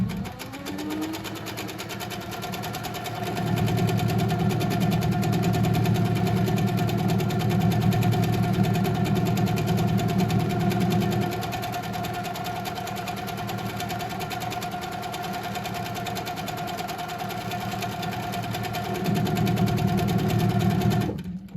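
Sewing machine stitching a pebble quilting pattern in free-motion, a steady close hum that speeds up and slows in stretches, running alone for about twenty seconds.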